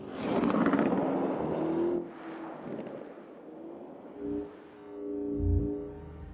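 A Lamborghini Urus engine drives hard in a racing game, a loud rushing roar that fades and settles into a lower hum with a couple of brief swells.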